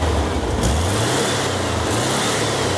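Air-cooled engine of a Mexican-built VW Beetle revving steadily, a loud, close, sustained mechanical roar with a droning low hum and no talk.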